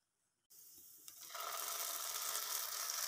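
Chopped onion and black cumin hit hot mustard oil with a sudden loud sizzle that swells into steady, close frying hiss, used for a spicy mashed pointed gourd peel dish.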